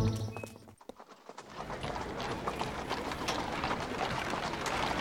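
Cartoon horse hooves clip-clopping in a steady, brisk rhythm, fairly close and continuous after a brief dip, with faint mechanical ratcheting textures mixed in and no talking.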